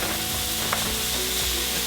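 Ribeye steak sizzling in a hot pan, a dense, steady close-up crackle and hiss that holds at an even level throughout, with no voices.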